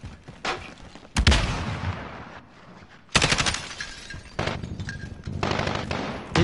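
Gunfire in a first-person shooter match at a toy store map, a few sharp loud bursts with broadband cracks and rumbling tails spread across the stretch, no talk.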